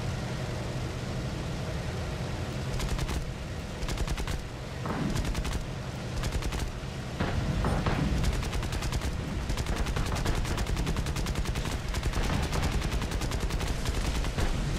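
War Thunder battle sounds from a combat aircraft attacking ground artillery and anti-aircraft positions: dense, continuous gunfire and rapid machine-gun bursts with heavy booms, loud and sustained throughout, with no speech.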